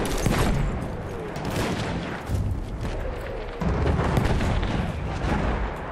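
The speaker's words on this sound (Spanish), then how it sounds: "Me están disparando" Gunfire in Battlefield 1 combat comes as dense, loud volleys of rifle and machine-gun shots with heavy booms and rumbling artillery, a continuous barrage with brief dips.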